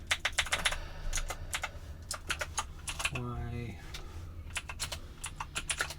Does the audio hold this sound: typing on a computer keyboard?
yes